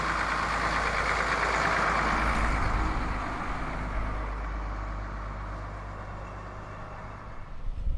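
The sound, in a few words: Leyland Lion vintage bus driving at Beamish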